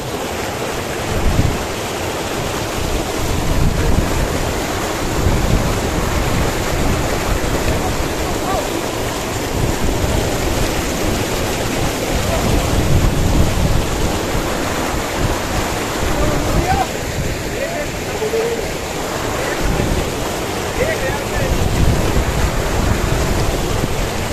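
Rushing mountain water on the steep, rugged trail to Gomukh, with mules passing nearby, fills the whole span as a loud, steady roar mixed with wind buffeting the microphone.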